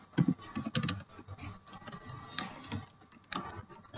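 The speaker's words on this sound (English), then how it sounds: "Now continue typing your details." Fingers type on a computer keyboard in an irregular run of close, crisp key clicks with brief pauses, alone without talk.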